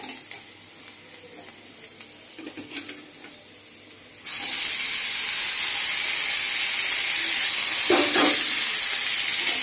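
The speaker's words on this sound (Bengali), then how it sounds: "পেঁয়াজটা যখন এরকম ভাজা হবে, একদম বেশি লাল লাল করতে হবে না, এরকম ভাজা হলেই এবার চিচিঙ্গাটাকে দিয়ে দেবো।" Onions frying in a pan, a soft sizzle that jumps to a loud, dense hiss midway as snake gourd is added, with a brief stirring scrape near the end.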